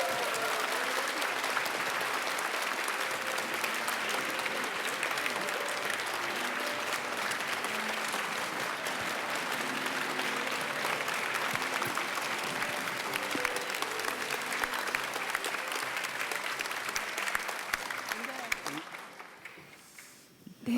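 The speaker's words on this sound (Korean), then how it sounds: "여러분 큰 박수로 앞으로 모시겠습니다" Sustained audience applause welcomes Kim Jung-sook, wife of President Moon Jae-in, at a public report event marking his first 100 days; steady dense clapping fills the hall for about eighteen seconds, murmured talk underneath, before fading out.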